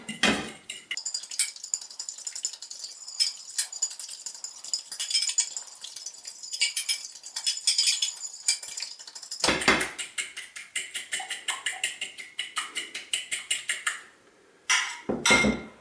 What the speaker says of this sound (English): And then we'll beat our egg mixture up.